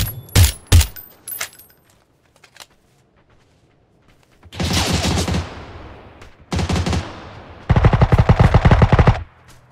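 Automatic gunfire in the PC battle royale game PUBG, with two sharp early shots followed by three loud sustained bursts of rapid fire, close and dense, with no talk over them.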